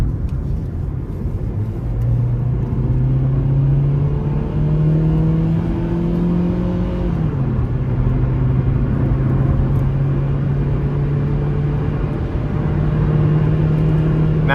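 Interior drone of a 2009 Nissan Versa S hatchback with a small 1.8-liter engine groaning under acceleration, its pitch rising, dipping at a shift, then climbing again over steady road rumble, continuous and close.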